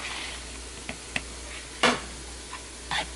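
A utensil stirs shredded cheese into a batter of milk, Bisquick and beaten eggs in a bowl, with a few soft scrapes and light clinks spaced apart, close by and fairly quiet.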